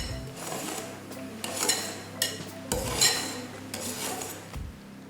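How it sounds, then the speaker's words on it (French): Wire whisk folding whipped eggs and sugar into a chocolate mixture in a bowl, a steady run of soft scraping and clinking strokes against the bowl, close and moderately loud with no talk. "Donc à l'aide d'un fouet, en allant bien au fond, délicatement, on essaye de garder du volume."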